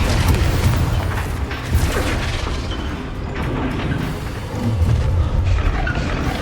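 In Hogwarts Legacy, a Confringo spell explodes with heavy, rumbling booms layered over a continuous roar of combat effects.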